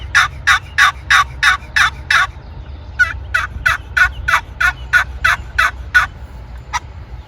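A small hand-held turkey call imitates a wild turkey gobble, giving loud, rapid bursts of clucking gobbles in two quick runs with a brief gap between them, close and clear with no talking.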